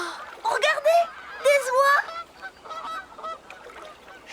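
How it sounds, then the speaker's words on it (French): Several geese honk loudly in quick bursts, calls overlapping, then trail off into quieter honks. "Et d'après toi, où est-ce qu'elles vont, ces oies?"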